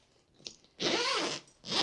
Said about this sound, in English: got a couple of zips, really robust zips with a grab handle